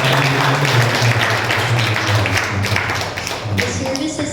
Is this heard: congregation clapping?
yes